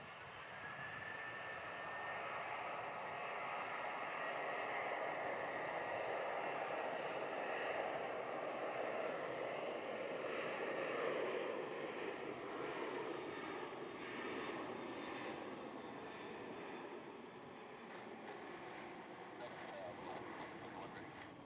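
A Qantas airliner bound for Canberra makes a rolling-start takeoff at Melbourne Airport, its jet engines producing a steady, distant roar that holds for about twenty seconds with a faint whine on top.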